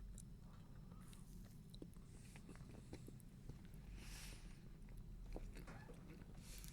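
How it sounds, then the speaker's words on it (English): Close, quiet crunching and chewing of Reese's Pieces peanut candy, soft irregular bites and mouth clicks repeating over a low steady background hum. "don't like the sound of people chewing"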